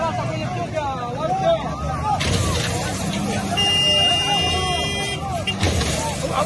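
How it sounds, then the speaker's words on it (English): A vehicle horn gives a sustained beep amid a busy outdoor crowd, heard over loud babble, shouting and engine noise. "Why is he beeping?"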